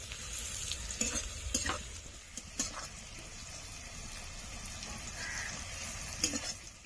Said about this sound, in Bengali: আবারও পেঁয়াজটা কিছুক্ষণ ভেজে নেব